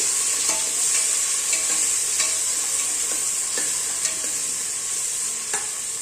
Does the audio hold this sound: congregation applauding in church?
no